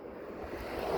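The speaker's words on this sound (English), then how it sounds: "Sorry about the wind. It's a little bit windy." Steady wind rushes past the microphone outdoors during an ebike kit test ride, a continuous low buffeting roar that holds for the whole second with no talking.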